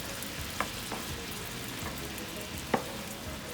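Teriyaki chicken sauce bubbling and thickening in a pan while being stirred, a constant close sizzle broken by two sharp utensil scrapes, with no voices.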